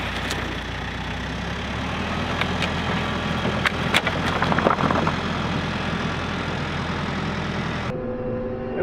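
A hydrostatic tractor engine runs at a steady low drone near a sawmill, with a few sharp knocks and clanks over it before cutting off abruptly near the end.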